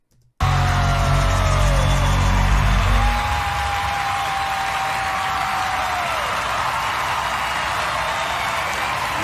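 A studio audience at The Sing Off applauds a performance. A loud, dense wash of clapping and cheering starts suddenly and holds steady, easing slightly after the first few seconds.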